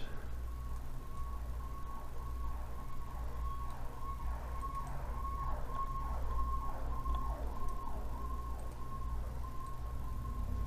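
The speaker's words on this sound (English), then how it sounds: "Oh, I heard an ambulance." A distant siren wails in repeated rising and falling sweeps, faint under steady traffic rumble, with a constant tone running alongside.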